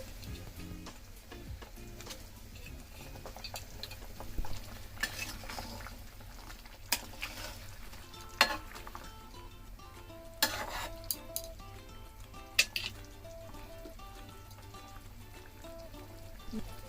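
Rui fish sizzles gently in a pan for Bengali curry, with a quiet steady fry and occasional sharp clinks and scrapes of a spatula stirring against the metal.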